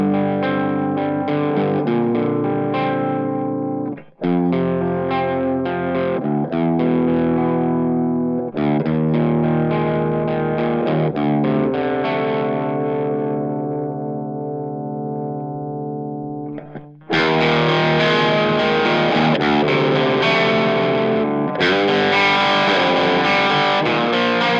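Heavy distorted riff played on a Washburn HB32DM semi-hollow electric guitar, chugging chords and sustained notes with chorus-like effects, loud and close with brief pauses, no voices.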